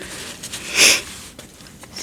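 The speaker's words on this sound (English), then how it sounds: "Excuse my sniffles." A single close, sharp sniffle through the nose, brief and clear against a quiet background.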